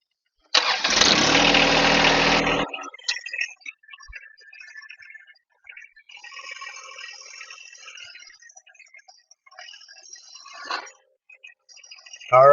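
A John Deere tractor engine starts with a loud broadband burst and then settles into a quieter idle and low rumble with scattered rattles as the machine drives onto a drive-over mower deck, and a brief rising whine comes near the end.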